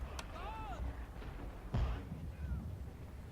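Artillery fire in the video game Fall of the Samurai: a couple of muffled, distant booming thumps under a noisy battle ambience, with faint whistling tones in between.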